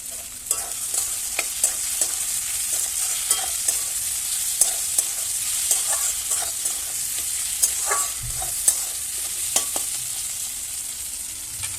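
Green chillies and tomato fry with a steady hiss of sizzling oil in a pan for rajma, while a spoon gives occasional light scrapes and taps. Heard up close, with no voices.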